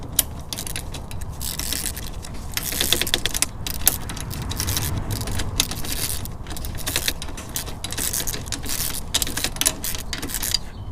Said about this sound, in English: I'm just using a deep 13 millimeter socket and my flex head gear wrench ratchet.